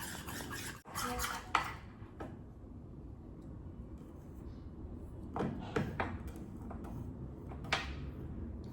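A metal spoon clinks and scrapes in a bowl as ghee is worked into ghujiya dough, intermittent sharp taps and rubbing bursts over a quiet room, with brief pauses between strokes.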